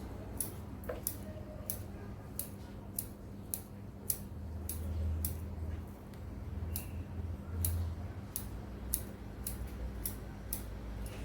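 Scissors snip through long bonsai tree roots during repotting, giving a series of crisp, close clicks at an uneven, unhurried pace over a low steady hum.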